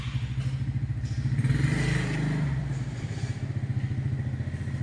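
A Yanmar 3T68 three-cylinder diesel engine, rated 17.1 hp and fitted with a hydraulic oil pump, runs steadily at idle close by, giving an even, rapid chugging beat with mechanical clatter and no talk.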